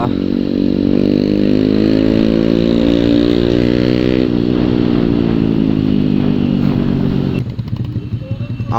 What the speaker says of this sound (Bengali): ডেটোনার এক্সস লাগিয়ে জাস্ট এমন একটা সাউন্ড ক্রিয়েট রয়েছে